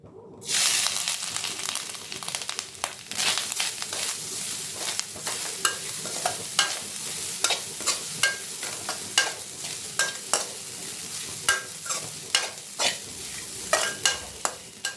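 Grated coconut roasts in a pan and is stirred constantly, a loud close sizzle starting abruptly with a quick train of rhythmic scraping strokes throughout, no one speaking.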